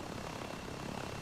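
VTOL aircraft in ArmA 3 hovering like a helicopter at half throttle, a dense, steady engine and rotor roar filling the short moment without a break.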